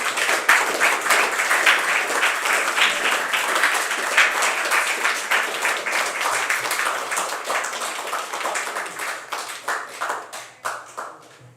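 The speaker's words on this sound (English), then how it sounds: "we give a big round of applause for all of our panelists once more?" A conference audience gives a round of applause for panelists after an ecosocialism session: dense, sustained clapping from a large crowd that gradually thins and trails off toward the end, with no talking.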